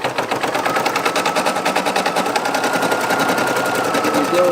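An embroidery machine runs a placement stitch, a loud, fast, steady mechanical chatter of needle strokes that carries on unbroken with a faint hum underneath.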